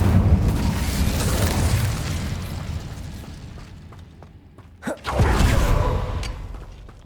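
Fiery spell blast from the Incendio charm in the Hogwarts Legacy video game, a loud rumbling burst of flame that swells and fades, followed by a second sharp burst under continued game ambience.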